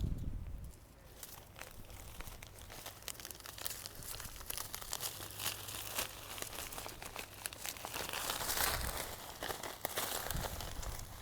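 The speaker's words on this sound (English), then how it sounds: "I just stick the head in a plastic bag, cut the head off" Plastic bag crinkles and rustles softly while dill seed heads are cut into it in a garden, a quiet, continuous crackling with scattered sharper crunches and snips.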